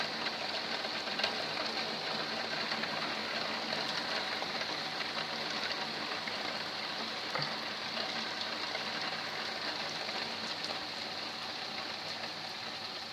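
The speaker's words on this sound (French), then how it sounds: "Ça commence à pleuvoir un peu moins fort, même si ça pleut toujours modérément" Moderate rain pours on an August day in Lœuilly, France, with gutters flooding, making a continuous even hiss of drops that holds steady throughout, fairly soft and unaccompanied by speech.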